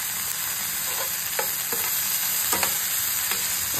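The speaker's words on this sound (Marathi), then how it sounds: "आता त्याच्यामध्ये आपली ब्रोकोली टाकून द्यायची आहे आणि त्याच्यामध्ये पनीर पण टाकून द्यायचं" Broccoli and paneer are stir-fried in a pan for a paneer broccoli salad, with a steady sizzle broken by several sharp scraping stirs of a spatula, close and fairly loud.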